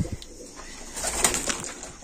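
A flock of kept pigeons coos softly and steadily, low murmuring calls repeating close by with a faint rustle in the background.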